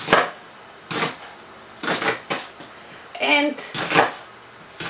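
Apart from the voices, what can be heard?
chopping green onions with a knife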